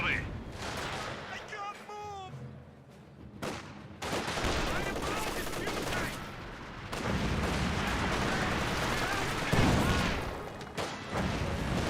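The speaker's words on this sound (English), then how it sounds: "And we do now have a strafing run." Heavy machine-gun fire from a strafing run tears across a Company of Heroes 2 battlefield amid rumbling battle noise, with a voice talking over the loud, continuous barrage.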